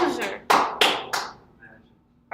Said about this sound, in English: Alright, you can clap. I'll let you.